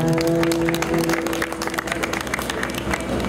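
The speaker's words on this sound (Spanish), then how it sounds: "Fuerte los aplausos por nuestro aniversario." An audience applauds a music duo at an anniversary serenade in Chincha Baja, giving a sustained, dense clapping under a steady, tonal musical hum.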